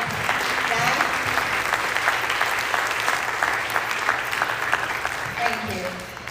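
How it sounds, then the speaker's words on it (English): Steady audience applause follows a Bharatanatyam arangetram dance performance, a dense, sustained clapping from a full hall that fades slightly toward the end, with a voice speaking over it. "Can I have a round of applause for Abhirami?"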